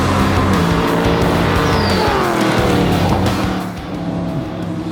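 A race car roars loudly past on a Formula One track at a motorsport community, engine pitch sweeping downward with a brief tire squeal before the sound eases off.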